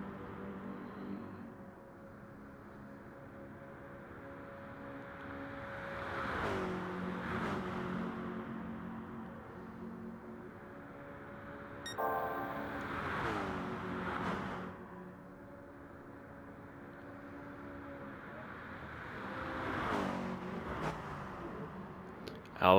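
Race cars in a sim racing league video game, engines droning with rising and falling pitch as cars pass in several swelling bursts, moderately loud with no talk.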